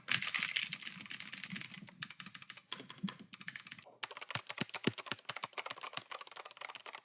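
Rapid typing on a mechanical keyboard with red switches, a dense stream of light clicky keystrokes with a brief pause midway, close and fairly loud, no voices.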